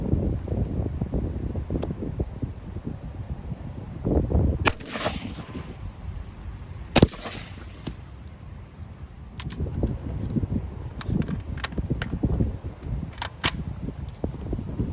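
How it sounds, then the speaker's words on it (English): Several sharp rifle shots of M193 ammunition ring out one at a time across the span, each with a bright crack and short tail, over steady outdoor wind noise. "we're going to start with Herder's M193 and then shoot some of that Norma M855"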